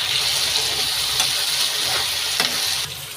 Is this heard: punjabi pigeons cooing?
no